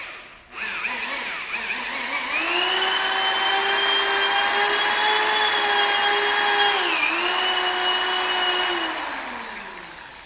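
A power tool spins a Scotch-Brite pad against a 6.0 engine valve, giving a loud, steady tonal whine that runs continuously for about eight seconds, dipping briefly in pitch under load before winding down.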